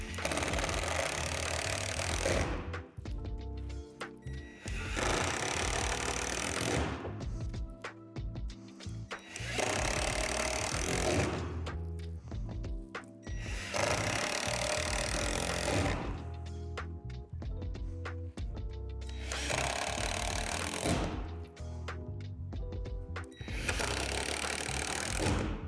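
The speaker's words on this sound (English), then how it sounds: "Insert a screw into the dimples on the side panels going into the anchors on the floor" Power screwdriver driving screws into the plastic side panels of a Lifetime 165 gallon deck box, anchoring them to the floor: five loud bursts of buzzing drilling, each a few seconds long, separated by short quiet handling pauses.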